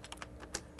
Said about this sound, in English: For the short edge, we're going to type in 13